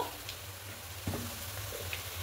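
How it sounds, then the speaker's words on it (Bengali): Onions fry with spice powders in a pan for milk chicken, giving a steady, soft, even sizzle with a single brief tap of a utensil partway through and no talking. "পেঁয়াজটা দেখুন হালকা করে ভাজা হয়ে গেছে"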